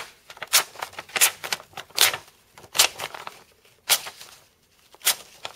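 A Spyderco Manbug pocket knife slices through material in a series of short, crisp cutting strokes, about eight separate scrapes spaced unevenly and close to the listener.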